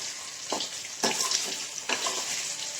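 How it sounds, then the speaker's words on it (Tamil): Chicken pieces for Chicken 65 sizzle steadily as they deep-fry in a pan, with a few louder stirring scrapes and splashes breaking through the constant hiss, close and without talk. "ஒரு 5 நிமிஷம் நல்லா பொரிச்சு எடுத்துக்கோங்க"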